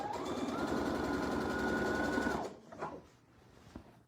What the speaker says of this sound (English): I'm just going to take a regular stitch and I am going to stitch with these two pieces just together